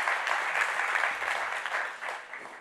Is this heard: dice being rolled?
no